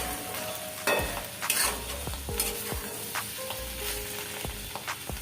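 Ash gourd pieces fry in a pan with a constant hiss of oil, while repeated spatula scrapes and taps cut in through the sizzle at close range. No one speaks.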